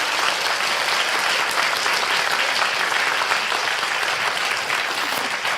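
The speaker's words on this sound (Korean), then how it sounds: "다시 한번 크게 손뼉 쳐주세요" Applause from the audience at a Seoul book celebration for a Korean dictionary, a sustained, loud wash of many hands clapping evenly for several seconds with no speech over it.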